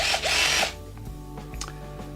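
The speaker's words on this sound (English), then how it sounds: "let's try with drilling on the beginning" An IKEA FIXA 14.4V cordless screwdriver drill in drill mode, first gear, bores into a piece of wood with a loud, close whine for under a second, followed by quieter motor hum and a few small clicks.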